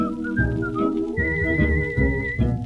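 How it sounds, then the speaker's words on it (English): Someone whistles a bright melody over a bouncy 1934 dance band accompaniment in a song, the whistled notes sliding and holding clearly above the rhythm. "I'm whistling my worries away"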